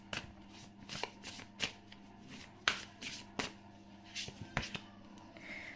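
A deck of tarot cards is shuffled by hand in a quiet room, with soft, repeated riffling and slapping bursts at an uneven rhythm, close and fairly faint.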